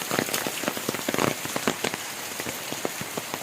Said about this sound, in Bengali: প্রায় দুই ঘন্টার অধিক বৃষ্টি হচ্ছে